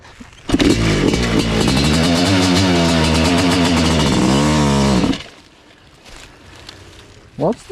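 A 1986 Kawasaki KX500 two-stroke dirt bike with an FMF exhaust revs loud and close for about five seconds, a raw, rising and falling buzz, then cuts to idle-level quiet with a brief voice near the end.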